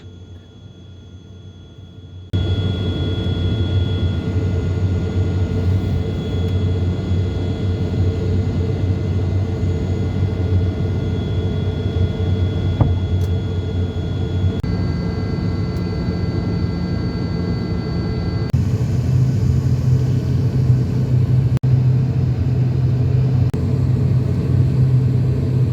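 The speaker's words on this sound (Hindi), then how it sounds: "हमारा इंडिगो विमान अब टेक ऑफ कर रहा है।" From inside an IndiGo airliner, the engines jump to a loud, steady roar after a quieter start, with whining tones that shift in pitch as the plane rolls along the runway toward takeoff. There is no talk over the noise.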